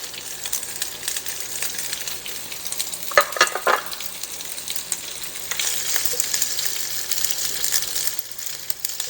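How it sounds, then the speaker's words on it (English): Whole sausages searing in melted bacon grease in a skillet, a loud steady sizzle with the clatter and scrape of the links being moved and turned. "We're going to cook our sausage first."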